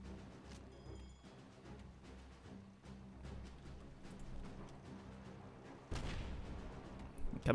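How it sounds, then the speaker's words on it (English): Cannon fire from airships in the game Airships: Conquer The Skies makes a dense run of dull booms and rumbling impacts, building louder near the end in a thick battle din. "Coming cannonballs!"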